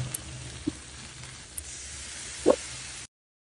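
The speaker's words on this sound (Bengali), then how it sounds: "এখন তেলের সাথে মশলাটা ভালোভাবে কষিয়ে নিব।" Chili and turmeric powder with salt sizzle steadily in hot oil in a pan, a soft continuous hiss broken by a few brief scrapes of stirring, close and fairly quiet, with no voices.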